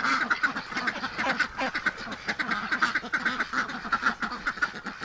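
Muscovy drakes give a continuous stream of raspy, rhythmic quacks and hisses close by, loud and busy without pause throughout.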